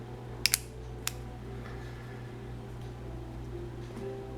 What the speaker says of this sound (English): I don't know if you can hear the clicking.